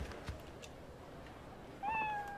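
A cat in the video game Like a Dragon: Ishin gives one short, clear meow at the end, over a steady game ambience.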